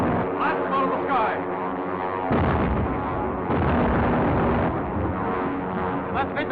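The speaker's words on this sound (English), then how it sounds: "Take your positions, ready to fire. Fire! Blast them out of the sky!" Anti-aircraft guns firing up at a plane in an old serial battle scene, a dense run of booming blasts and bursts with shouted voices over the din.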